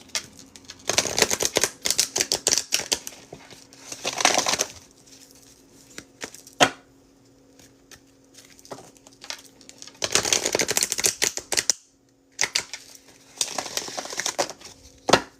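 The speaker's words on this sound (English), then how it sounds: "as I shuffle the cards" Cards riffle and snap in several quick bursts separated by pauses, close and crisp, with no talking.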